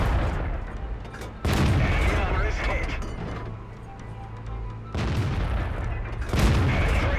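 Tank guns firing in the World of Tanks video game, with several loud booming shots standing out over steady engine rumble and mechanical clanking.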